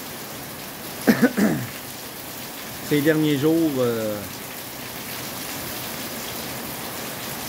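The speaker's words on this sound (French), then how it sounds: "La pluie est là." Steady rain falling during a thunderstorm, a continuous hiss of drops throughout, with a person speaking French briefly over it.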